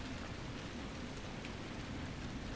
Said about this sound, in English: Stayed out here in the cold rain.